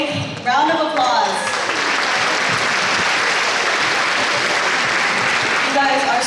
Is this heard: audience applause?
yes